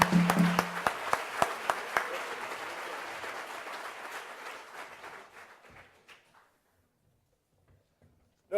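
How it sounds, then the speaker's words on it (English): A lecture audience gives a round of applause, with crisp individual claps up front over a broad patter that thins and fades into near silence after about six seconds. "Give a round of applause."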